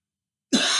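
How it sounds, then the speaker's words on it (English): A single harsh cough bursts out after half a second of silence, close and fairly loud, from a person with a sore throat. "Oh God, this cough's terrible."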